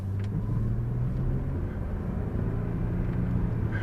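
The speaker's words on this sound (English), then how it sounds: "I always allow the faster traffic to pass me." Traffic passes on a road beside a slower vehicle, with a constant low engine rumble and tire roar holding steady throughout and no voices.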